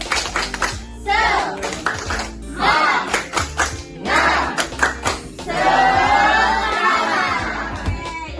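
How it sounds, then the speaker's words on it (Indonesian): A school class performs a rhythmic spirit clap during a micro-teaching lesson, bursts of patterned clapping mixed with children's chanting and shouting, ending in a sustained group cheer. "Tepuk semangat"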